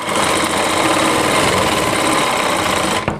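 A sewing machine runs a side seam along a lehenga for a heavy-work Rajputi poshak, giving a loud, close, continuous whirring rattle that cuts off abruptly just before the end.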